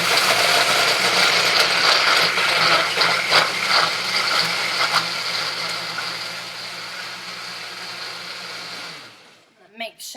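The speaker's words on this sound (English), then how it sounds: "Now, once you have all that, you just blend it on up." A loud, close blender whirs steadily while pureeing ingredients for a healthy recipe, then winds down and stops near the end.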